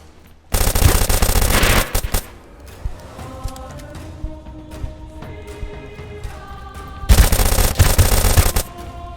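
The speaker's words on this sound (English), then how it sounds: "After a hard gunfight, I end up killing the player with me" Gunfight in the video game Deadside: two long bursts of rapid automatic gunfire, loud and close, separated by scattered single shots and quieter game sounds with faint tonal hums.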